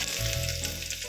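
Chopped garlic hitting hot oil in a pan for vegetable manchow soup, giving a sudden, steady crackling sizzle that stays close and bright for about a second with no voices.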